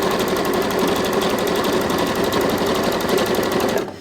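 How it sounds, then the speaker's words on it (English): A sewing machine stitches binding onto a quilt in a loud, continuous, rapid mechanical whir that runs unbroken up close, then stops at the end. "So now we are going to sew until we get to the first corner"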